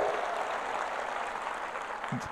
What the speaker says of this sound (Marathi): टाळ्यांचा गजर झाला पाहिजे